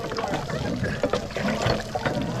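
Water gushes and splashes from an old hand pump at a traditional house in Ozu on Shikoku, Japan, a fairly quiet, uneven trickle with faint voices nearby.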